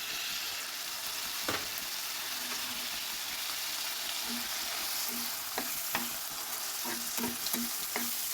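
Radish greens with chopped onion, salt, mixed spice, red chili and turmeric frying in a pan: a steady sizzle runs throughout, with scraping stirs and clinks of the utensil growing more frequent toward the end.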